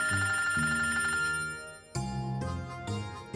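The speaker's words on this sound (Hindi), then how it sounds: "लो जी, आ गया आपके सैया जी का फोन।" A telephone rings in a drama scene, a bright electronic ringtone repeating in short melodic bursts, loud and close with no voices over it.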